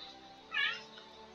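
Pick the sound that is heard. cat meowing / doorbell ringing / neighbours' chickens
cat meowing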